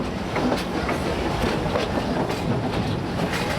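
A safari tour train at Busch Gardens Florida rumbles steadily along with continuous clattering wheels and faint rhythmic clicks, a constant rolling noise throughout.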